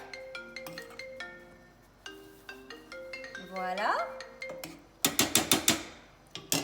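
A mobile phone rings in a kitchen during cooking, a repeating melodic ringtone of bright tonal notes that carries on for several seconds. A bright jangling burst follows near the end, and a voice speaks briefly.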